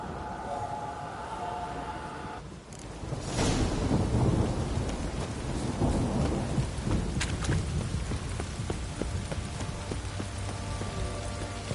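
Heavy rain pours steadily in The Witcher game while a deep thunder rumble rolls in and lingers, with scattered drips and taps on surfaces.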